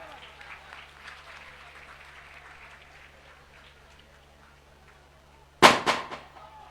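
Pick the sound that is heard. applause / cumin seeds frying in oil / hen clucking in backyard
applause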